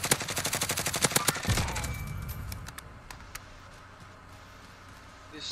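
Rapid automatic gunfire in a video game shootout, a fast rhythmic burst of shots that ends in a heavier blast and then fades into quieter ambience with a few faint ticks.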